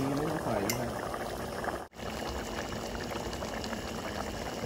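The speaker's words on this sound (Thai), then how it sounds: "เดี๋ยวเราจะเคี่ยวอย่างนี้นะครับให้มันเดือดปุดปุดปุดปุดปุดปุดอย่างเงี้ยไปเรื่อยๆ" Beef tongue stew with bay leaves simmers in a pot, a steady close bubbling and seething that runs throughout, broken by one brief dropout partway through.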